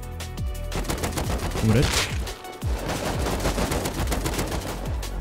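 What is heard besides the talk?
AK rifle gunfire in the video game Rust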